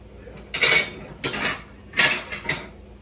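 A plate and pan clatter while meatloaf is served, four quick bursts of clinking ceramic and metal close by, each short and bright, with no talking.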